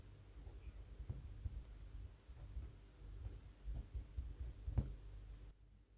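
A Rotring mechanical pencil writes on paper, producing faint, close scratches and light irregular taps in short strokes with small pauses, soft and quiet with no talk.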